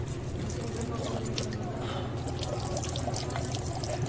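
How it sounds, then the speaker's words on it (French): Water from a public fountain in a Berlin housing estate pours in a steady, continuous stream, loud and close, with a faint voice beneath. "cette fontaine est sa seule source d'approvisionnement en eau"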